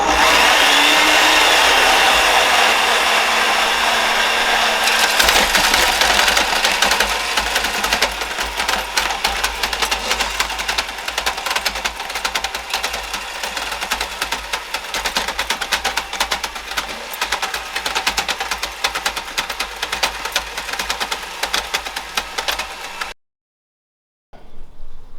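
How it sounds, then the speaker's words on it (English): A cordless drill drives a homemade pistachio nut processor, giving a loud, steady mechanical whir with rattling that runs continuously for over twenty seconds before cutting out abruptly near the end. "So once I turn on the drill, I have a drill that allows me to set the automatic speed,"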